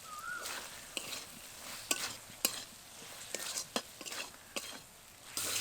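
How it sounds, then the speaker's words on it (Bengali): Potatoes get stirred with spices in a frying pan, a soft bed of sizzling oil broken by repeated sharp scrapes and clinks of the spoon against the pan at an uneven rhythm. "শুধুমাত্র আলুগুলো দিয়েই ভালো করে আবার কষিয়ে নেব।"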